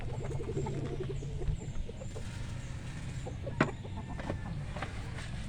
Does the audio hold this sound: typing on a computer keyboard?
no